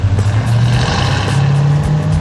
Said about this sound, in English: Listen to that 8-cylinder poetry.